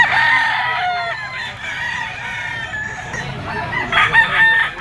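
Roosters crowing repeatedly at a gamefowl market, with stags and other fighting cocks crowded together, several overlapping crows and clucks forming a busy, loud chorus of fowl close by.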